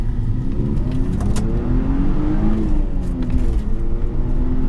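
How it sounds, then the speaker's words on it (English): A BMW E46 with a 3.46 differential accelerates hard in first gear, engine revving and climbing in pitch, loud and close, with a steady low rumble throughout. "I'm going to roll into it in first gear and take it from there"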